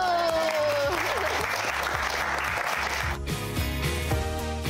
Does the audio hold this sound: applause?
yes